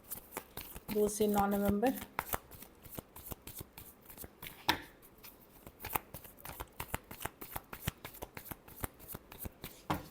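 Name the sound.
shuffling tarot cards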